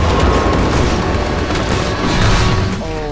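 Shotgun-like weapon in Titanfall 2 during an IMC Reaper test program, firing a loud, dense volley of booming shots that blur into continuous heavy gunfire, with mechanical whirring rising near the end.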